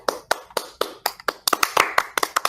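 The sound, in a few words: hands clapping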